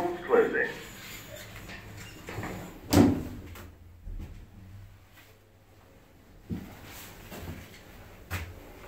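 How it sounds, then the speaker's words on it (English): Stannah lift doors at a station close with a sliding rumble and a firm clunk, amid a quiet hum and a few automated voice announcements. "Doors closing."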